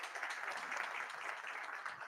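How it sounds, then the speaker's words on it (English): Audience applause for young startup innovators at a mining technology unveiling event, a steady, fairly faint patter of clapping sustained throughout without a break. "I think they deserve a round of applause even before they come through here."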